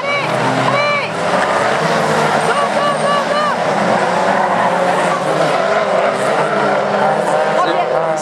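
A Renault Mégane Coupé rallycross car at a 2016 Mayenne rallycross race accelerates hard, its engine note sweeping up and down through the gears, loud and close, while an excited voice talks over it.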